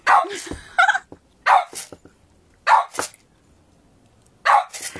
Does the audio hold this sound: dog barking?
yes